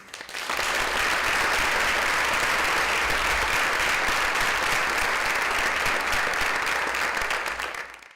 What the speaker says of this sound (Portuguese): Uma salva de palmas para a Ruth.